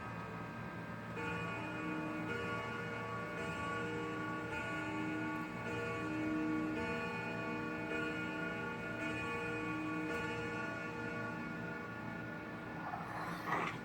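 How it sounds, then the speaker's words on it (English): A wall clock chimes nine o'clock, a sequence of sustained ringing tones that overlap and decay in a quiet room, with a steady faint ticking underneath. "now the chimer's going to chime"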